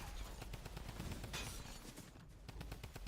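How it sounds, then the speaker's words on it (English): Rapid bursts of gunfire in the video game Fortnite crackle in quick repeated volleys, loud and close, with a brief gap before the shooting resumes. "Yeah, I'll go up and shoot them."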